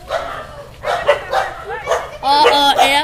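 A dog barks several times in short bursts, fairly close, with faint voices or household noise in the background.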